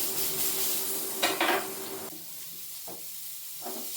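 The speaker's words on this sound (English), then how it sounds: "I'm just finishing this second steak, just cooking it up a little bit longer" Venison steak cooks in a pan with a soft sizzle and hiss, broken by a couple of brief scraping and clattering bursts from handling the pan.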